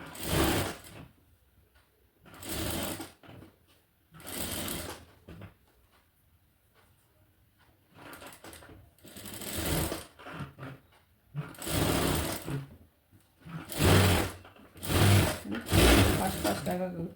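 A sewing machine stitches lining onto fabric in several short bursts of whirring, each a second or so long, separated by quiet pauses and growing more frequent toward the end, with a voice speaking between runs.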